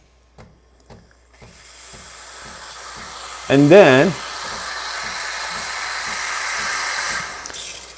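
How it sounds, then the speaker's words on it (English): Steam wand on a Breville Barista Express espresso machine hisses steadily for several seconds after a few clicks, close and fairly loud, with a brief spoken phrase over it. "Barista Express steam does take longer"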